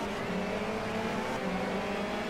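A race car in rFactor 2 drifts through a chicane hairpin, its engine droning steadily with a tonal buzz, loud and continuous for a short stretch, no voices.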